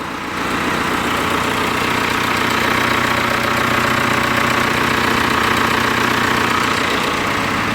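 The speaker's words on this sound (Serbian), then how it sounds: "Motor radi normalno na leru." A 2.0 TDI diesel engine in an Audi A4 idles steadily during an engine decarbonization treatment, giving a loud continuous knocking rumble with even vibration, close up and with no talk.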